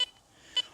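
Garrett Vortex metal detector beeping over a pull tab and foil in multi-frequency mode, giving two short, sharp electronic beeps about half a second apart in a quiet setting.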